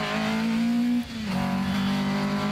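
A rally car, number 15, accelerates hard off the start line of a rally stage: a loud, close engine note climbs steadily, drops sharply for a gear change, then pulls up again, with no talking.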